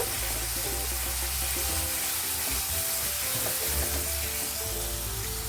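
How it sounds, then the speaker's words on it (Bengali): Dry spices fry with tomato in a pan for a mixed vegetable curry. A close, dense, steady sizzle goes on throughout, with faint stirring scrapes underneath. "সব মশলাগুলো অ্যাড করব দিয়ে দিলাম দিয়ে ভালো করে কষিয়ে নেব"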